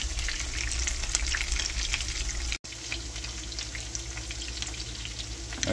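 Muskie fish and diced potatoes fry in a pan over low heat, giving a steady, dense sizzle that runs almost unbroken, with one brief dropout midway and no voices.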